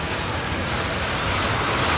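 Fast, cold water under high pressure rushes through the turbine of an old water-powered flour mill, a steady, loud, close roar of broadband noise with no talk.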